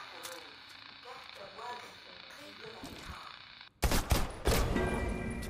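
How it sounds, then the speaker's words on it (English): Video game gunfire in Deceit 2 arrives as a sudden burst of loud, rapid shots near the end, after a stretch of quieter ambient game sound with faint chirping tones. "I'm just gonna wait till you run out of bullets, Lisa."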